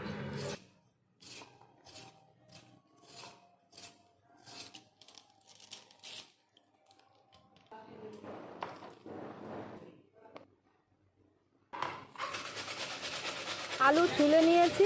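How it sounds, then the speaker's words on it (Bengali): Potatoes and onions are peeled by hand in a kitchen, giving soft scraping and rustling strokes in short bursts, followed later by louder, busier scraping and handling. "আলু আর পেঁয়াজ ছুলে নেব।"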